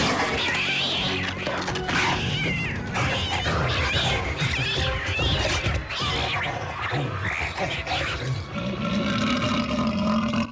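Loud, chaotic animal roaring and yowling with crashing noises, a continuous frantic fight sound filling the whole stretch.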